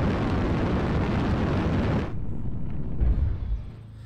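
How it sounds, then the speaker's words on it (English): Mech jump jets in the game MechWarrior Online, a loud roaring thrust rush holding steady for about two seconds, then cutting down to a lower rumble with a deep thump before fading. "Now when I activate jump jets, you'll see the bar decrease."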